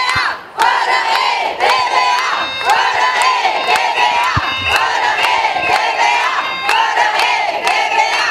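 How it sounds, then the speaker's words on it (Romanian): Street protest crowd against fiscal legislation and ETVA, protesters shouting and blaring vuvuzelas in a loud, continuous, rhythmic chorus of horns and chanting voices. "Cu vuvuzele și pancarte pe care scria Eliminarea ETVA sau Transparență și respect, nu doar legi fără efect, protestatarii și-au strigat nemulțumirile"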